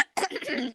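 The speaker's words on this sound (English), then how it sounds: "I did cough." A single short, harsh cough from a young woman bursts out close to the microphone, followed by a brief raspy throat sound.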